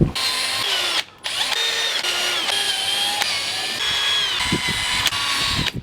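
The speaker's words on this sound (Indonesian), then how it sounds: "Sekarang kita bor dulu semuanya" A power drill whines steadily at high speed, boring through plastic pipe with brief pauses and shifts in pitch, close and loud throughout.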